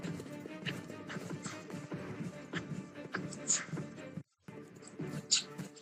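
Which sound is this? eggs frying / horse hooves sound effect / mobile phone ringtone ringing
horse hooves sound effect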